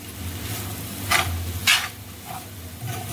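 Cowpea leaf vegetable cooks in an open pan with a soft, steady sizzle, broken by two brief louder scraping stirs and a faint clink near the end.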